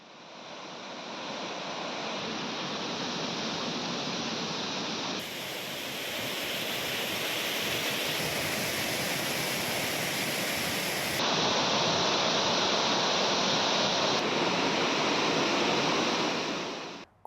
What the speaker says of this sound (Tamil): பாதுகாப்பு வளையத்தையும் தாண்டி தண்ணீர் ஆர்ப்பரித்து கொட்டுவதால் சுற்றுலா பயணிகள் குளிக்க தடை விதிக்கப்பட்டுள்ளது